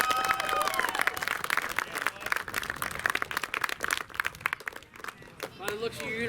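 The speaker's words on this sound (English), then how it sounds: "Give yourself a round of applause." Applause and some cheering from a crowd at a 10U AA youth baseball tournament wrap-up, dense clapping running throughout with a voice talking over it near the end.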